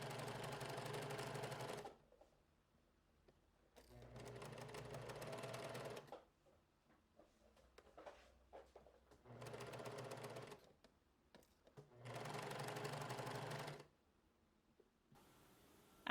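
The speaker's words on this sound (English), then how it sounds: "Let's go and sew this from here to there. Lock in your stitches and off you go." Sewing machine stitching the side seam of a blouse, running in four steady bursts of a couple of seconds each, with quiet pauses and small handling clicks between runs.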